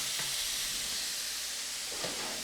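Venison for a stir fry sizzles in a hot pan, a loud continuous hiss filling the whole stretch with a couple of faint scrapes and no talking.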